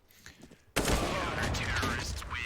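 Sustained automatic gunfire in Counter-Strike: Global Offensive erupts abruptly after a quiet moment and stays loud and dense, with a commentator talking over the shooting.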